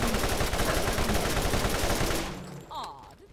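Dense, rapid video game gunfire from Borderlands rattles loudly and without pause for about two seconds, then breaks off into quieter scattered game effects.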